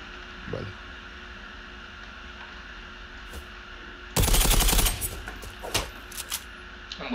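Gunfire in the Zula video game, with a sudden close burst of rapid automatic shots lasting under a second, then scattered single cracks and clicks over a faint steady game hum.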